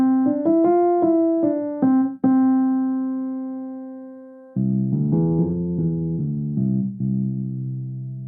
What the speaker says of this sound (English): and I have added the Mozart Forte piano from the sound library.